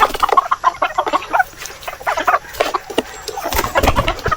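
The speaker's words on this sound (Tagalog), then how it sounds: "Ito yung aking mga dumalaga kung tawagin mga ka-farmers. Nangingitlog na yung dalawa" Young laying hens (pullets) clucking on a farm, a steady run of close, overlapping clucks and short calls through the whole stretch with no talk.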